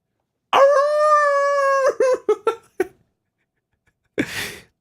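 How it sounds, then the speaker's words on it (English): A wolf howls in the distance in The House in Fata Morgana: one long, sustained, tonal howl, then a run of short yelping notes and a brief breathy burst after a pause. "A wolf howled in the distance."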